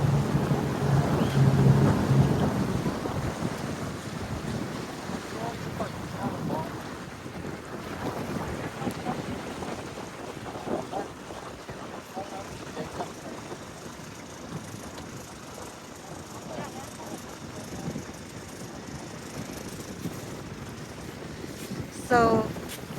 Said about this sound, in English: my brother about to park the boat and then drop us over here